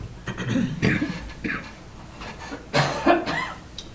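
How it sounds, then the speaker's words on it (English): Several short, rough coughs break out in scattered bursts, fairly close, with a brief throat-clearing sound among them, in a dry county board meeting room. "we're all coughing because it's very dry in here"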